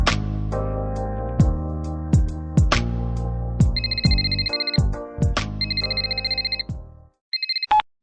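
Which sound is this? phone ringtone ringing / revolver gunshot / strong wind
phone ringtone ringing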